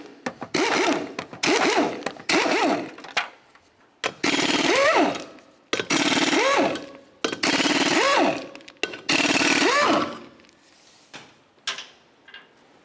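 An impact wrench zips lug nuts off the front wheel of a 2005-2010 Chevy Cobalt in several loud rattling bursts with short pauses between, ending in a few small metallic clinks.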